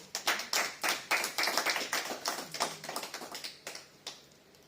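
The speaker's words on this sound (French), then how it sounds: "Voilà, nos applaudissements." A church congregation at a Sunday service claps to welcome a pastor, with distinct, fairly quick claps from a modest group that thin out and fade away near the end.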